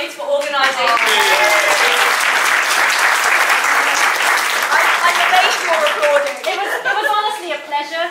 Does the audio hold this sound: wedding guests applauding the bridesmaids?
yes